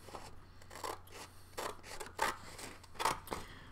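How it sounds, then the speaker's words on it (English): Scissors snip through card stock to make a Mother's Day card, a series of short, crisp cuts in an uneven rhythm, close and fairly quiet with a faint steady hum underneath. "And now I'm going to try to start this procedure of cutting."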